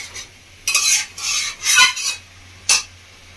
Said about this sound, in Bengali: গ্যাসের ফ্লেমটা বাড়িয়ে দিয়েছি। এভাবেই কষাতে থাকবো।